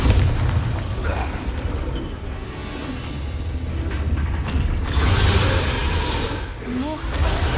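Bombarda explosion spell from a Harry Potter video game, dull booming blasts and rumbling debris over a dense battle din, with a voice shouting briefly.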